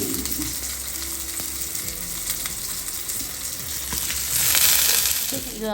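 Fish frying in hot oil in a pan, a dense continuous sizzle that stays close and loud, with a brief scrape near the end.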